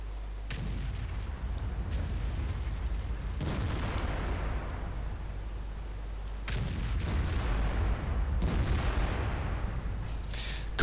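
Heavy tank main-gun fire from an IS-7 in World of Tanks, several deep booming shots spaced a few seconds apart over a constant low engine rumble, with no talking.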